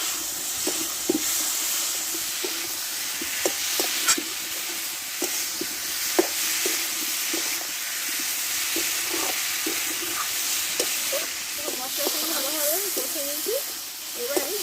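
Pumpkin, potato and vegetable stems frying with ground spice paste in a pan give a soft continuous sizzle under repeated spatula scrapes and taps, steady and close, with a brief bubbling hiss near the end.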